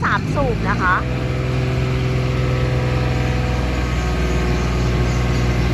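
The three-cylinder Yanmar diesel engine of a 1.5-ton Ammann AV16K road roller runs at a steady, low idle throughout, a continuous rumble close by, with someone talking over it.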